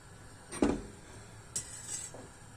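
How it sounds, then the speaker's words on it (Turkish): A metal pot lid clanks as it is lifted off a pot of simmering neck-meat soup, followed by a lighter clink as it is set down, quiet and close. "Tenceremizin kapağını açalım."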